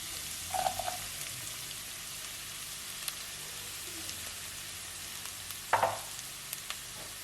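Fresh chilies and onions fry in a pan, a soft continuous sizzle with a couple of sharper clinks of a spoon stirring against the pan, fairly quiet and close.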